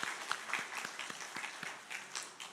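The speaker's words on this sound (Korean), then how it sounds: "다시 한번 박수로 축하해 주시기 바랍니다" Congregation in a church worship service applauding after a baptism ceremony, a steady patter of many hands clapping at moderate distance, fairly soft and even, with no talk over it.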